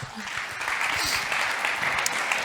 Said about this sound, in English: Let's give a huge round of applause for TerraWaste and all of the 9 semi-finalists from this period